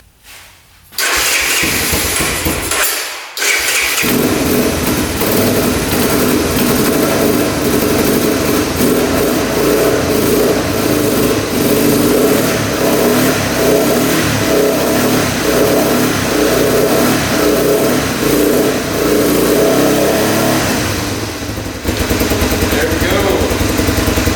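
A Honda three-wheeler's small engine, long stored in a barn, sputters, catches after a brief crank with the choke on, then runs loud and close with a steady, slightly uneven idle throughout.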